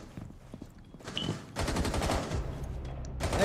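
Gunfire in the console shooter Rainbow Six Siege, a close burst of rapid automatic shots after a quieter stretch of scattered shots and movement, loud and dense toward the end.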